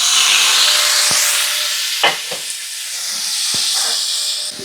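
Steak sizzles in oil on a hot, drying grill, giving a loud steady hiss with a few sharp pops and crackles scattered through it.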